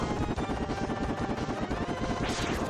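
Rapid blaster fire aimed at a mini-boss in the Mega Man X video game, a dense, loud, continuous stream of game shots and effects with no talking.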